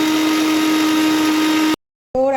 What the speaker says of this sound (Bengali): এবার আমি মিক্সিটা একটু ঘুরিয়ে নেবো।